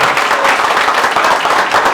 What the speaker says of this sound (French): Est-ce qu'on peut encore applaudir?